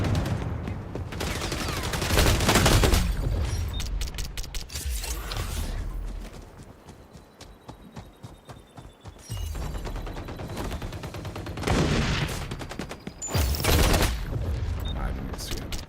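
Rapid bursts of automatic gunfire crackle through a gunfight in the shooter XDefiant, with repeated loud volleys and mechanical clatter between them, while a voice talks over parts of the action.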